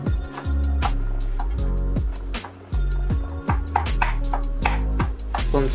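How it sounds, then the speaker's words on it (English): Quick, regular knife strikes on a cutting board as garlic and ginger are chopped for a vegan hot and sour mushroom soup, about two chops per second, close and crisp over steady background music. "Chop garlic and ginger going in."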